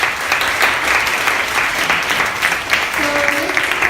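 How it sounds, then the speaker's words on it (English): An audience applauds after a forum talk and question session, steady crowded clapping throughout, with a faint voice briefly audible toward the end. "Let's give another round of applause to Tait"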